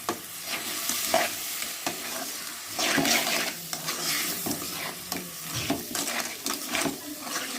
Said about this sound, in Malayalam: ചെയ്ത് വെച്ചിരിക്കുന്ന ഞണ്ടിട്ട് ഞാൻ നല്ലപോലെ ഒന്ന് ഇളക്കി കൊടുക്കണം.